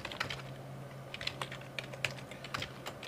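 Keys clatter on a Commodore 128 computer keyboard while code is entered into an assembler, a run of quick, irregular clicks at close range, fairly quiet, with no voices.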